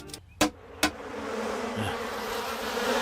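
A constant buzzing of a bee swarm close by, preceded by a couple of sharp knocks, in a Simpsons cartoon.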